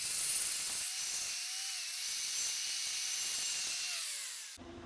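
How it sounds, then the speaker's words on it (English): Angle grinder working down a raised high spot on a weld bead, a steady, continuous high-pitched grind held close and loud for several seconds before cutting off at the end. "I'm just grinding out that high spot a little bit"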